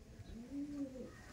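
Chennai breed line pigeons give a soft, brief coo, faint and close, with low murmuring in the background.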